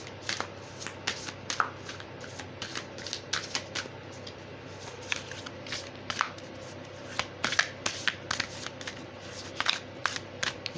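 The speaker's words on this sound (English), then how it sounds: "Let's pull some Moonology cards." A fresh deck of Moonology oracle cards being shuffled, with steady riffling clicks and crisp card slaps repeating close up, unaccompanied by voices over a quiet background.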